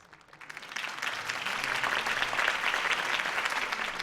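In-game crowd applause from Batman: The Telltale Series, rising quickly from near silence into sustained, dense clapping and cheering that holds steady to the end.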